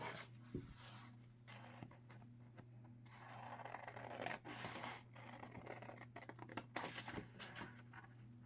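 Scissors snip and scrape through paper in quick irregular cuts, close up, with light rustling and handling between the cuts.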